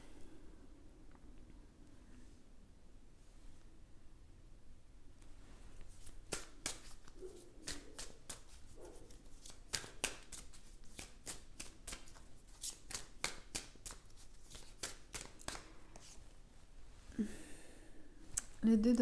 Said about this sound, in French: Il y a beaucoup de mêlage de cartes ici.